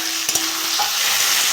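Salted, turmeric-coated shrimp fry in a pan with onions, giving a loud, continuous sizzle and a couple of brief stirring knocks near the start; no talk.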